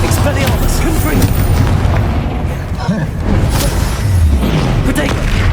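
Spell explosions from Bombarda and Confringo rumble in a Hogwarts Legacy duel, deep booms and bursts rolling continuously over a dense game soundscape while a voice keeps calling out spells.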